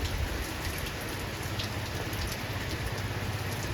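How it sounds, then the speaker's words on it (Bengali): Heavy rain pours down steadily onto a partly waterlogged field, a dense unbroken hiss of drops drumming on surfaces with a low rumble underneath. "প্রচুর জোরে জোরে বৃষ্টি হচ্ছে এখানে"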